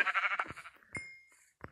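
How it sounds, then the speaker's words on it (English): Sheep bleat in the video game Minecraft, a few short, quiet calls in quick succession with brief gaps between them. "There's just the biggest vein of sheep I've ever seen."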